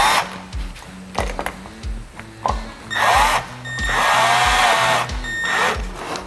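A power screwdriver drives screws to fasten an electrical outlet into a mud ring in drywall, with short bursts of whirring motor and rising strained whines between pauses, close and fairly loud.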